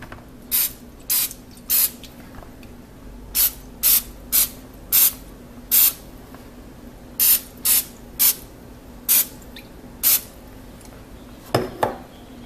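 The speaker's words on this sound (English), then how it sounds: "Coat the mold here. Some spray so we can get it out later." Cooking spray is applied to a cake mold in short hissing bursts, about a dozen sharp spritzes in an irregular rhythm, close and loud, followed by a faint clatter of the pan.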